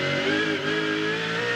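600-horsepower race car engines roar at Calder Park Raceway during a 2001 Shell Championship race, a steady, loud, high-pitched drone with no gaps.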